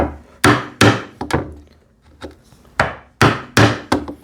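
A hand chisel is struck into wood while a TV unit is built, giving a series of loud, close, sharp whacks in uneven clusters, each ringing briefly before the next blow, with a short pause midway.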